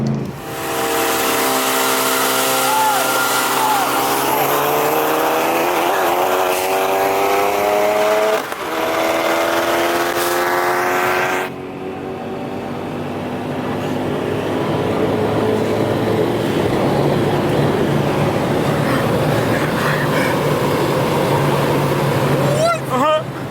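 A supercharged Mustang with about 575 wheel horsepower races a big-turbo MK7 GTI on a street, its engine climbing through rising gear pulls with a steady, loud drone and a gear change midway. People talk over it.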